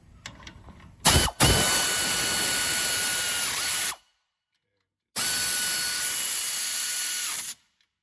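An air tool running bolts during disc brake reassembly: two loud, steady high-pitched whirring bursts of about three seconds each, separated by silence, starting with sharp clicks and a short rattling hit.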